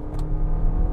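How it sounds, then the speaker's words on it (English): Engine noise inside a 2024 Lexus TX 350, a large three-row SUV, heard from the cabin as a steady low drone with a faint higher whir above it, continuous and moderately loud. "there is more engine noise here than I would like"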